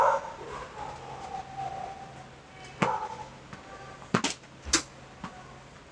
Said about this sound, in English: Who brought the dog out on the trail?